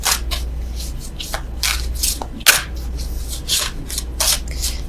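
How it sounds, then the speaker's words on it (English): Tarot cards are shuffled by hand close to the microphone. Sharp bursts of riffling and rubbing repeat in an uneven rhythm for several seconds, and no one speaks. "I don't know why I'm still shuffling these."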